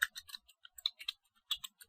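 Computer keyboard keys tapped in short irregular bursts of crisp clicks, close and fairly quiet, with brief pauses between clusters of keystrokes and no voice.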